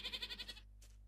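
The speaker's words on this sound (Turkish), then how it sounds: "Keçi." A goat from the Mo Creatures mod in Minecraft bleats once, a quick wavering, pulsing cry of about half a second, clear and close against a faint electronic hum.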